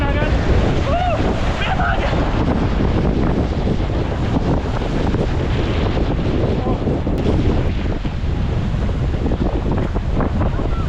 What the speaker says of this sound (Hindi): देख सकते हो बहुत सारी लहरें आ रही है